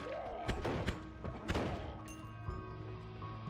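Dynamite blasts in the video game Noita, several deep muffled thuds and crashes spaced across a few seconds with rumbling debris between them, moderately loud, no talking over them.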